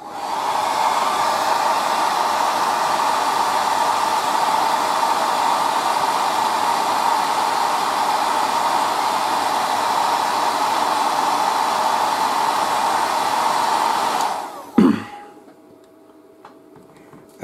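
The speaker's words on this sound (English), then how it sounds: "I'm going to use here just a little air dry to dry this yellow." A hair dryer blows steadily to dry yellow paint on a miniature Predator figure, a loud continuous whoosh for about fourteen seconds before it clicks off, leaving quiet room tone.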